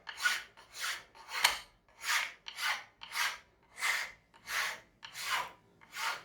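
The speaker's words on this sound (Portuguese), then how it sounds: "usando a lima daqui para lá" A hand file rasps back and forth across a wooden marking gauge, nine even strokes in a steady rhythm, close and clear with no talking.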